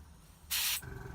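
An aerosol spray can of paint, used graffiti-style to overload a surface for levelling, gives a loud hissing burst of about a third of a second, standing alone over a quiet background.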